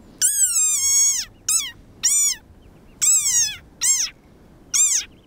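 A desert rain frog gives six loud, shrill squeaks, each a short wavering cry with a sharp onset and a pause between them. No one talks over the calls.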